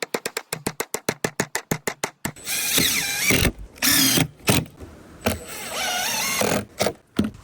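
A drill works pallet wood: a fast run of evenly spaced ratcheting clicks, then several loud close whirring bursts of the motor with short pauses between, as screws are driven down along the edges of a workbench.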